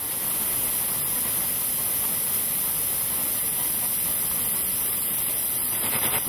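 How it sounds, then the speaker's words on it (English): Compressed air from a compressor rushes out in a loud, continuous, even hiss that holds steady throughout, close and unbroken, at an electronic pneumatic sound art installation. "I'm using air pressure produced by a compressor to make sound."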